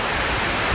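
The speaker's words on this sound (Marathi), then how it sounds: "थोडा जबरदस्त पाऊस वाढलेला आहे." Heavy monsoon rain pouring down, a dense, loud, continuous hiss and patter close by, with no voices.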